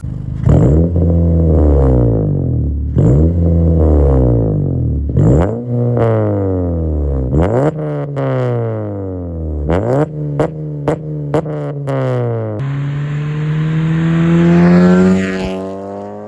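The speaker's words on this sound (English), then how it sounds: "I think that the exhaust note of this setup sounds pretty fantastic on these cars" A ninth-generation Honda Civic Si exhaust revs hard again and again, each rise in pitch followed by a drop, then settles into a loud, raspy, sustained roar close by.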